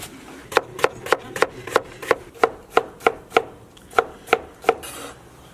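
Knife chopping potato strips on a board in a home kitchen, about a dozen crisp, evenly spaced strikes in a steady rhythm, close and clear with no talking.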